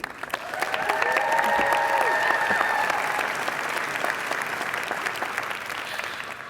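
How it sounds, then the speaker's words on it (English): A large keynote audience claps for a demo team at a Marketing Cloud event. The dense applause swells within the first second and holds steady, with faint tonal sounds over it early on, then slowly thins toward the end. "can you guys give a huge round of applause to our amazing demo team?"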